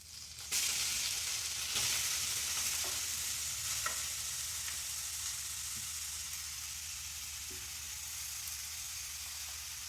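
Carrots frying in a hot pan while being made into carrot halwa, a steady close sizzle with occasional stirring clinks, continuous and moderately loud with no voices.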